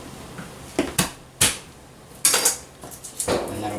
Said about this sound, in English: Garlic, we just want to give it a little smash with our knife.